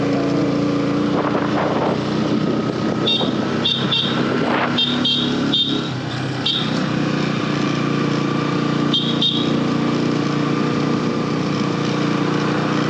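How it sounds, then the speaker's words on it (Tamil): A vehicle's engine labours in second gear while climbing a forest road, a steady loud drone with brief higher-pitched bursts and clatters from the climb; no talk is heard. "இப்போ வந்து செகண்ட் கியரில் போகுது ஆ செகண்ட் கியரில் ஏறுது"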